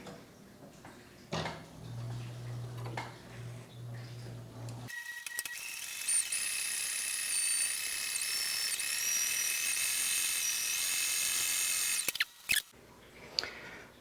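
An industrial sewing machine stitches a straight seam in a Sunbrella marine cover for a pop-up camper. A few handling clunks come first, then a steady high motor whine runs for about seven seconds and stops abruptly.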